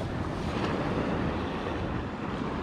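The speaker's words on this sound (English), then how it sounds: "when the waves come up and hit that little ledge" Ocean surf washing onto a hard-packed sand beach with a small ledge on Okaloosa Island, a steady close broadband wash with wind buffeting the microphone throughout and no speech.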